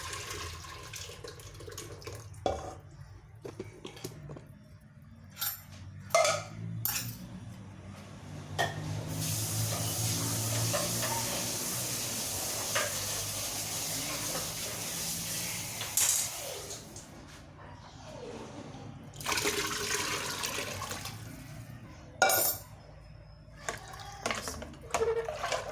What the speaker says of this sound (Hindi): ये देखिए मैंने पानी डाल लिया है